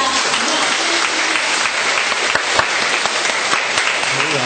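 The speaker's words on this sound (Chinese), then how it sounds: "再以最热烈、最热烈的掌声来欢迎我们的" Dense, steady applause from an audience welcoming a performer at a traditional Chinese music concert, many hands clapping continuously and fairly loudly throughout without a break.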